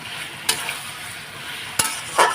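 Spices and garlic being sautéed in a pan for a soybean curry, with a low, steady sizzle broken by a few sharp scraping stirs of the spatula.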